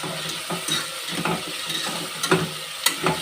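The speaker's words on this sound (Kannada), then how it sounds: "ಮೊದಲು ಈರುಳ್ಳಿ, ಟೊಮೊಟೊ ಎರಡನ್ನ ಸಪ್ರೇಟ್ ಹಾಕಿ ಫ್ರೈ ಮಾಡಿಕೊಂಡ್ರೆ ಚೆನ್ನಾಗಿರುತ್ತೆ." Onion and tomato frying in a pan for vegetable pulao, a steady sizzle with bursts of stirring and spoon scrapes against the pan, close and fairly loud.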